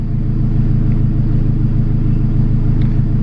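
A turbocharged K20 engine in an Acura RSX Type S, fitted with a CX Racing turbo kit and running on pump gas, idles with a steady, loud low rumble that stays even throughout.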